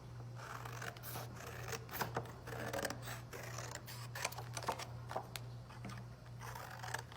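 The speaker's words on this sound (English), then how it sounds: "you cut those off." Scissors snipping through recycled paper while folding a gift box, a series of soft, irregular cuts over a low steady hum, quiet and close.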